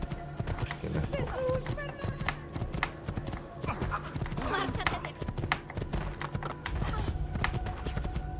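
Rapid rhythmic hoofbeats of a galloping horse in Assassin's Creed II clatter on, with a brief whinny and game effects layered over the steady clip-clop.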